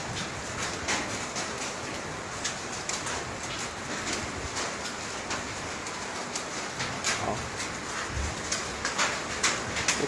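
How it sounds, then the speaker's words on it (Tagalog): A constant patter of volcanic sand and small stones falling on a roof during the January 2020 Taal Volcano eruption, with sharper irregular clicks of larger stones scattered throughout. "Malagapak na yung bato sa bubong."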